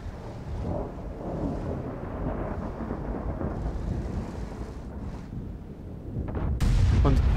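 A Conqueror Gun Carriage tank gun fires in the video game World of Tanks: one heavy, loud boom breaks in near the end over a constant, dense low rumble of battle noise.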